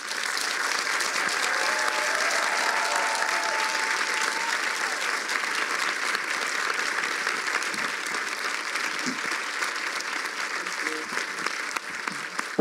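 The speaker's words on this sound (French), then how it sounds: "on va faire un tonnerre d'applaudissements pour monsieur Stephen Canals" A large audience at an evening talk event breaks into sustained, thunderous applause, dense and even throughout, with faint voices under the clapping near the end.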